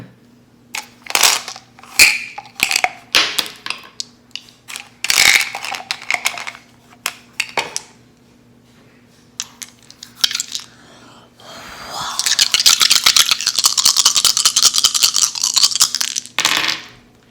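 Dice rolled during a tarot and astrology reading: scattered sharp clicks and knocks at first, then a dense, sustained rattle lasting several seconds, fairly close and clear.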